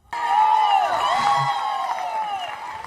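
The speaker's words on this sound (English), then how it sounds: "Why did they cheer so loud for that?" A large arena crowd at a 2024 CrossFit competition event cheers and roars loudly, with sustained whistling and shouting that swells and then holds at a high level.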